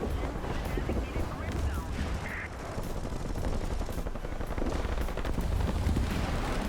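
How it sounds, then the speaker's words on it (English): Aircraft cannons fire in the War Thunder video game during close air support against tanks, bursts of rapid thudding shots over a constant engine drone, moderately loud throughout. "these cannons can do work against MBTs"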